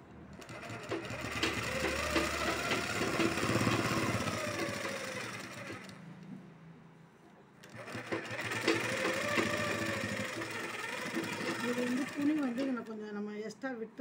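A sewing machine runs in two long bursts of steady whirring stitches while a 40 inch blouse with a pa neck is sewn, with a short pause between them and a voice talking over the work.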